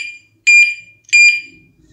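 A motorcycle alarm padlock, triggered by being dropped, lets out two loud, close, shrill electronic siren bursts separated by a short gap.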